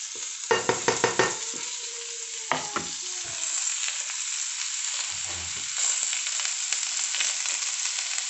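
Sliced onions tipped into hot oil with popped fennel seeds for a Thrissur-style beef fry, with a few sharp clatters of stirring at first, then a steady, close sizzle that carries on through the whole clip without talk.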